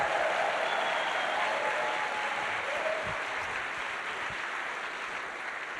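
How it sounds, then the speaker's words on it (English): An audience at an Ignite Seattle event applauds the volunteer organizers, a steady wash of many hands clapping heard from a modest distance, holding evenly throughout and tapering slightly toward the end, with no talking over it. "let's give a round of applause to the volunteers who worked so hard to put it on"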